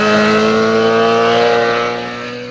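Loud, steady engine drone from passing motorbikes on a road in Spain, holding close and strong before fading as the bikes move away.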